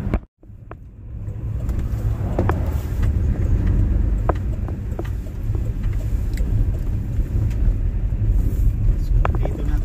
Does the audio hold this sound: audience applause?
no